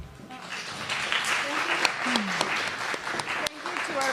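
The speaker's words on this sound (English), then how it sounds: "I'm going to give a round of applause." An audience at an East Bay environmental justice forum applauds its panelists with a dense, steady wash of clapping, loud and close, with voices mixed in.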